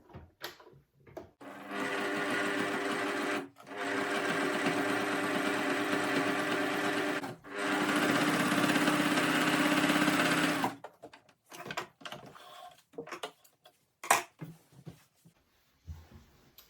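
A sewing machine runs straight stitching through a quilt with a walking foot at about 2.5 stitch length, three steady whirring runs of a few seconds each with brief pauses, close and alone, followed by quiet handling.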